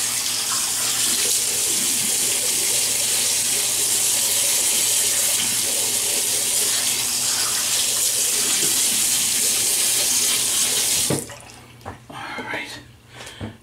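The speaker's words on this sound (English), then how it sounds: "let me wet the face" Water running from a tap into a sink to wet the face before a shave, a steady close splashing stream lasting about eleven seconds before it shuts off, leaving quiet handling sounds.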